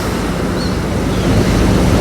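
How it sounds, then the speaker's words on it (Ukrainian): Strong sea waves break on the shore at Odesa's Langeron beach in a loud, continuous roar of surf, with gusting wind noise buffeting the microphone. "Сильні хвилі."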